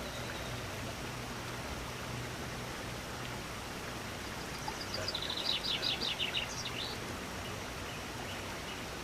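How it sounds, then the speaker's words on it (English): Birdsong trills faintly in the middle of a steady rain-like noise bed, a short burst of chirps rising and fading over a few seconds. "Listen to the music, the sound of the birds."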